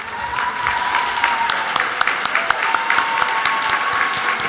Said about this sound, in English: You weren't supposed to give her a better applause than me.